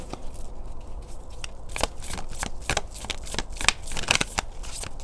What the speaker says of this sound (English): Drop a card like this and let's look at it.